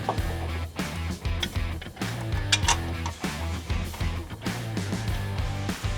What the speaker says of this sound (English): I got a ratchet already. It's a 14 mil.